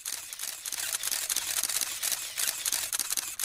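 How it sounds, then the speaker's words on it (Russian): Rapid, irregular camera shutter clicks fire continuously, several cameras snapping at once in an otherwise quiet room, with no talking, at a signing of a convention by five Caspian states in Aktau. "В тишине слышны только щелчки фотоаппаратов."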